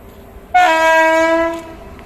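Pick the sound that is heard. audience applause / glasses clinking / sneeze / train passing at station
train passing at station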